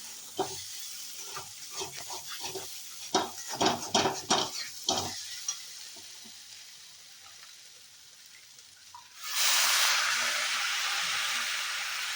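Utensils clink and scrape against a pan in a run of brisk knocks, then soaked Malabar spinach (pui shak) hits hot oil in a taro and pumpkin dish, setting off a sudden loud, steady sizzle.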